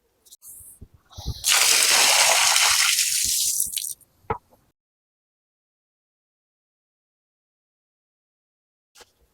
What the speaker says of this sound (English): we just dunked everything in soapy water, sloshed it around, tried to get all the majority of the crap off of the rope